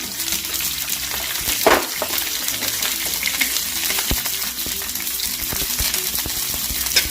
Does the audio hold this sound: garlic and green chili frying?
yes